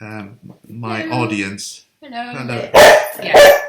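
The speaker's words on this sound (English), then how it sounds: "Oh, that's our dog. That's a dog's interruption." A dog barks twice, loud and close, near the end, after a man and a woman chat at home.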